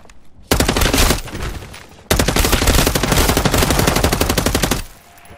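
Automatic weapon fire in Call of Duty Modern Warfare 3 Zombies, two loud sustained rapid-fire bursts separated by a brief pause, close and dominant, with no voices over it.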